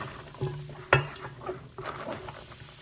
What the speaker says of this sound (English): Okay, I'm gonna start adding my onions now.